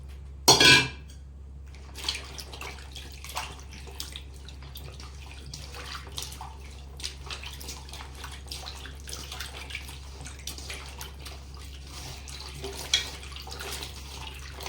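Mango seed kernels being washed by hand in a large vessel of water, with soft splashing and faint clinks of the container against a steady low hum, after one sharp clatter near the start.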